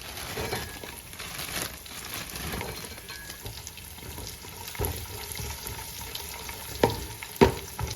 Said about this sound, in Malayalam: നമ്മുടെ എണ്ണ ചൂടായി വന്നിട്ടുണ്ട് ഇതിലേക്ക് നമുക്ക് അണ്ടിപ്പരിപ്പ് ചേർത്ത് കൊടുക്കാം